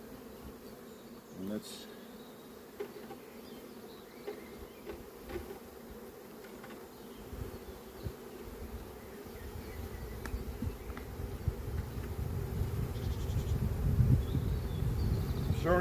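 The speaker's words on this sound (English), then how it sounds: "So we got our bucket of bees here." A bucket of honey bees buzzing in a dense, steady hum that swells louder toward the end, with a brief spoken word early on and small rustles over the swarm.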